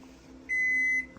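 A Panasonic Cyclonic inverter microwave gives a single clear electronic beep of about half a second at a keypress, loud and close over a faint room hum, with no talk.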